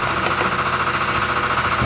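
A repaired microwave oven with a newly replaced magnetron runs steadily under test, giving a loud, constant mechanical hum and buzz with a faint pulsing throb and no pauses.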